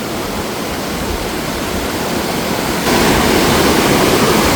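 Maranum Falls in Pangasinan roars as a constant broadband rush of falling water, loud and close, growing louder partway through with no voices.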